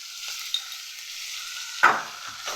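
Onions sauté in a hot pan with salt for green chicken, giving a faint steady sizzle broken by a couple of sharp stirring scrapes.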